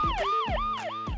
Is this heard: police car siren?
yes